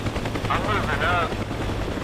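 Helicopter rotor thumping steadily in DCS World during a combined arms mission, close and continuous, with a brief whining engine tone over it and a voice talking over radio chatter.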